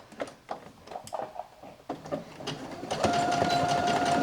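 Sewing machine stitching a fabric bowl cover: a few short bursts of rapid, rhythmic needle clatter, then a steady, louder run of stitching at the end, close and with no voices.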